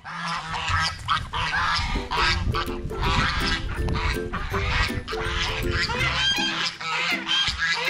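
A flock of ducks and geese honks and quacks continuously at close range, overlapping calls filling the air on a farmyard morning.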